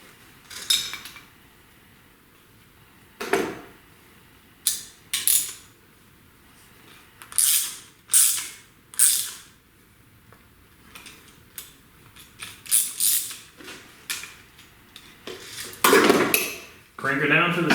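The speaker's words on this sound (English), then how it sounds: "crank her down for the second time." A budget double flare brake line tool is cranked down in a driveway, giving a series of sharp metallic clicks and ratcheting clanks at irregular intervals over quiet gaps.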